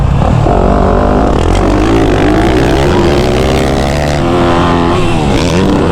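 A Yamaha YZ250F dirt bike races loud and close, its engine revving hard and continuously with rising and falling pitch as the rider works the throttle through the track.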